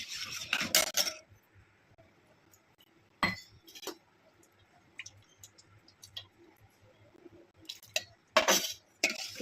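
A spoon scrapes and clinks against a pot while custard made with milk and sugar is stirred, in irregular bursts of metallic chinks separated by quiet stretches, close and fairly loud.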